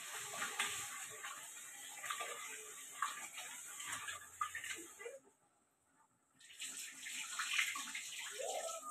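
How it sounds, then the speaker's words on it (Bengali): Four bottles are washed under running tap water in a steady, moderately close rush of water that stops briefly and then resumes, with faint clinks. "চারটা বোতল বেশ করে ধুয়ে নেবো।"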